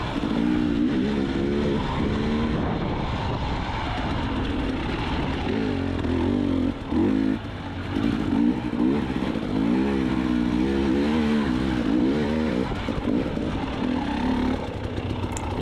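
A hard enduro dirt bike revs in short throttle blips and sustained bursts as it climbs rocks, the engine loud and close throughout with a rough, rising and falling tone and no talk.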